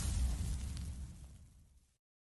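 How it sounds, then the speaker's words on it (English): A single grenade explosion, a deep booming blast that rumbles and fades away over about two seconds. "Now I'm gonna throw the grenade."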